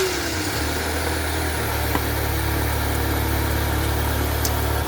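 Saab 9-3 2.0t from 2003, newly fitted with a fresh battery and a serviced throttle body, runs at a steady idle, its low engine drone constant and close throughout with no talk.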